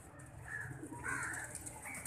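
Sialkoti breed pigeons coo softly in low, throaty murmurs against a quiet, steady background hum.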